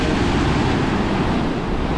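Strong wind roars across a rugged beach near Almería, buffeting the microphone in a dense, constant rumble with surf blended underneath and no voices.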